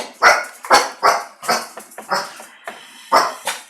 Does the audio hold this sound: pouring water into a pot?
no